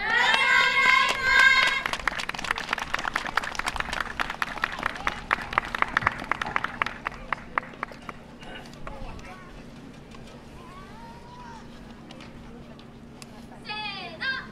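Spectators at a yosakoi dance festival clap rhythmically along to the Shake Samba group dance, a regular beat of hand claps beneath lively voices and shouts that thins out toward the end.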